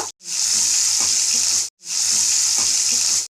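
Chopped tomatoes fry in a pan with a loud, bright, steady hiss, twice cut off abruptly and resumed, with faint clinks of stirring underneath.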